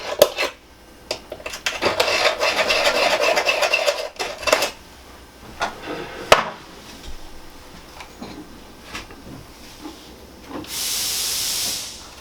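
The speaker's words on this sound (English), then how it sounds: "I'm literally scraping the brush off into the back of this thing" A brush scrapes inside a wax-coated ceiling strut of a Mercedes Sprinter 170 van: several seconds of close, rough, steady scraping, then scattered knocks and taps, and a brief hiss near the end.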